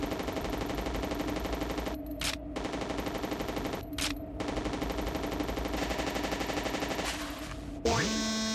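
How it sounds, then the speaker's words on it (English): Rapid, steady automatic fire from the super machine gun in the Hard Corps: Uprising video game. It rattles loud and continuous for several seconds, with brief gaps, and ends in a rising electronic sweep. "Super machine gun."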